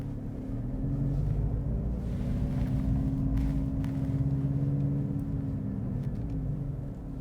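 A 2023 Mercedes C63 AMG makes a race-start launch, heard from inside as a steady, deep engine drone that swells slightly and then holds, with no talking.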